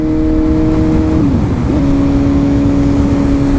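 A Suzuki GSX-S750 Z motorcycle engine idles loudly up close, then blips briefly as the revs dip and climb back to a steady, throaty idle.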